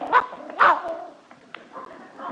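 A dog gives two sharp, close barks in quick succession, followed by quieter shuffling and soft sounds.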